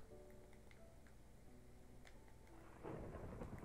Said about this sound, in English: Oh, I hear the thunder.